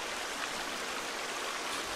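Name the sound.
flowing water from above in The Forest video game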